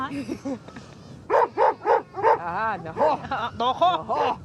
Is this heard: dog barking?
yes